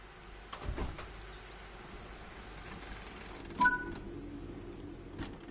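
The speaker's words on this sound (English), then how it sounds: "When you're ready, open the door and climb aboard the train" A train's sliding door opens in the Train Sim World 6 game: a short mechanical rumble, then a soft double chime, with quiet cab ambience around it and no talking.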